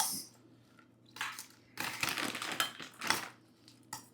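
Bhel with ratlami sev, yellow sev and peanuts is stirred in a bowl: quiet, scattered bursts of crunchy rustling and scraping come in short irregular rounds.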